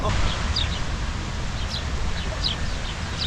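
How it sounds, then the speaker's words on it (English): Small birds chirp in short bright bursts every second or so in a park in Sofia, Bulgaria, moderately distant, over a steady wash of wind or ambient noise. "Back in another park, birds are chirping."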